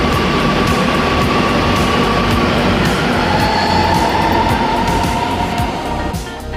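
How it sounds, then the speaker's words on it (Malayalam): A Kochi Metro train pulls away from the station with a loud, steady rumbling roar and a rising electric whine, the sound holding strong throughout before easing slightly at the end. "മെട്രോ പോകുന്നത് വരെ ഞങ്ങൾ അവിടെ തന്നെ കുറച്ച് നേരം വെയിറ്റ് ചെയ്തു"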